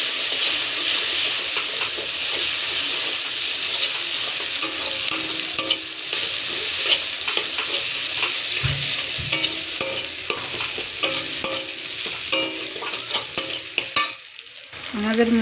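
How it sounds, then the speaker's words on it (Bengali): Two eggs fry in a pan, a steady close sizzle with crackling pops and occasional scrapes, growing busier and more spattery toward the end. "ডিম দুটো দিয়ে দিয়েছি। এবার আমরা ভেজে নেব।"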